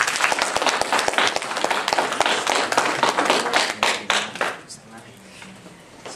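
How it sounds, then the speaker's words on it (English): A youth networking event audience applauds loudly with dense clapping, the ovation fading over the last couple of seconds as voices are heard beneath it. "can we give a round of applause for Alex to come up"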